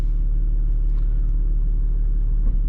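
A Jaguar S-Type with a 2.7-litre diesel V6 pulling on the road, a steady loud low rumble that holds evenly throughout, with no speech.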